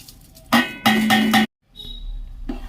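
A ladle scrapes and clinks against a pot while rice with cashews, raisins and peas is stirred, a few sharp metallic strokes in quick succession, then a pause and softer scraping.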